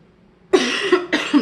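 Two harsh coughs in quick succession, close and loud, with a short gap between them and silence before.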